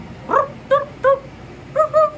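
A person imitates a dog with five short, yappy barks, evenly spaced, close and fairly loud, with no other voices around them.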